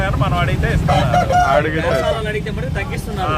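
Roosters at a Sunday rooster market in Nellore, with continuous clucking and crowing from many birds close by, alongside talking in the crowd.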